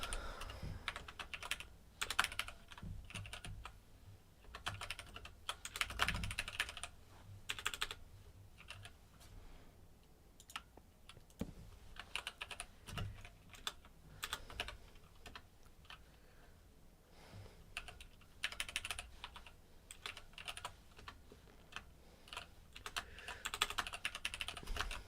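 Someone types on a computer keyboard at a desk with a pop filter and microphone nearby, quiet irregular bursts of clicking keystrokes continuing steadily with brief pauses.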